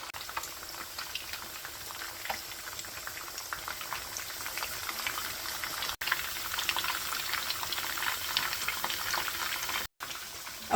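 Chapli kababs cook in a pan over a low flame, with a continuous bubbling, crackling sizzle that holds at an even level throughout and briefly drops out twice, no talking.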